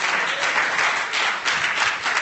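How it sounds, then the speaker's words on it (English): Church congregation clapping for the choir after a special number, a dense, steady burst of applause from many hands, fairly close and continuous throughout, with no voices standing out. "join me again to clap for the choir again for the special number"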